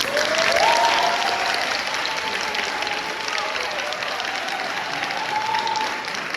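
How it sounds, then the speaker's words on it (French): An audience at a school back-to-term show applauds and cheers for the actors, a loud sustained wash of clapping with voices and whistle-like calls mixed in. "applaudissez, faites un maximum de bruit pour tous les acteurs"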